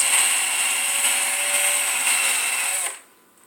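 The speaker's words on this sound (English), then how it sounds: "We're using a drill to do the eyes." A power drill whirs steadily for about three seconds, its motor pitch holding even as it bores into something soft, then spins down to quiet.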